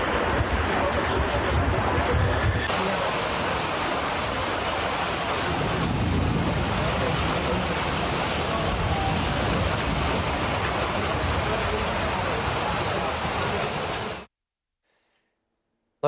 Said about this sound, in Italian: piccolo fiume in piena che scorre